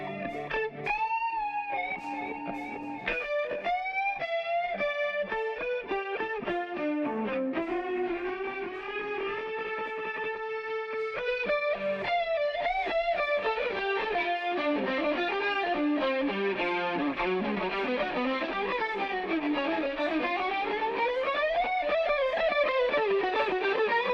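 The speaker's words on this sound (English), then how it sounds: "Listen to how the compressor not only smooths out our guitar sound, but adds additional harmonic distortion" Electric guitar run through a Softube Germanium compressor, its sound thickened with added harmonic distortion; a steady, loud, sustained melodic passage with bending lines plays alone for the whole stretch, with no talking.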